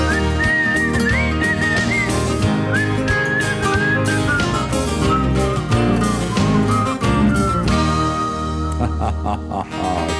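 A bright, wavering whistled melody carried through a live band performance of a pop song, loud and up front over full instrumental backing for several seconds.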